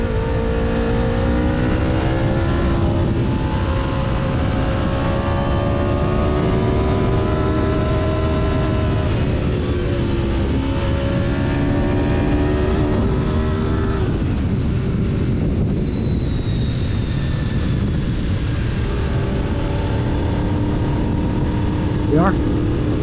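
Engine of a 1993 Honda VFR750F motorcycle during a ride on country roads, a loud, continuous, rising and falling drone with shifting pitch as the bike accelerates and slows, mixed with wind rush.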